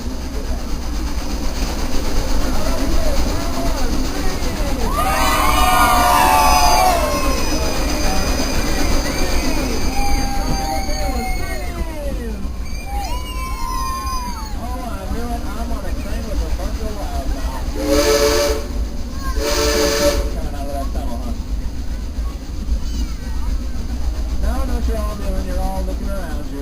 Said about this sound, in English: I want you to scream as loud as you possibly can